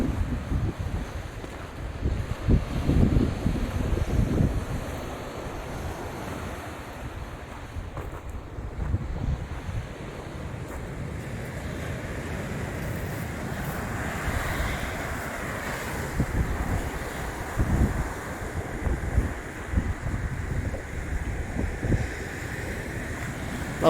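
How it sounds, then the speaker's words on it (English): Rough surf rolls and crashes continuously, mixed with heavy wind buffeting the microphone, no voices. "I've been by the ocean even when it's rough."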